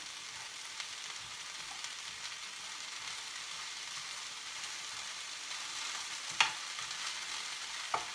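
Egg noodles and other stir-fry ingredients sizzle steadily in a hot pan, a soft continuous frying hiss with a couple of brief clinks of utensils toward the end.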